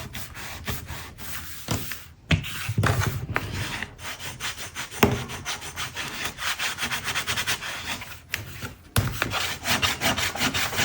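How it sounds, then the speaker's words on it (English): A folded paper pop-up card is rubbed firmly on both faces to set the glue, giving repeated scratchy strokes of paper friction close up, uneven in rhythm with short pauses between passes. "Give it a good burnish from both the sides, front and the back."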